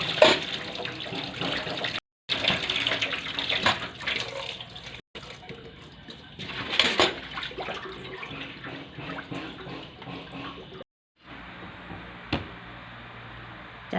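Running tap water splashes over shrimp being washed, a steady close rush with brief breaks and occasional clinks and drips as the shrimp are rinsed.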